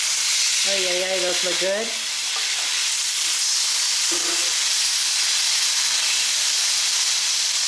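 Pork chops frying in a pan after being flipped give off a loud, steady sizzle and hiss throughout, with someone briefly speaking over it near the start.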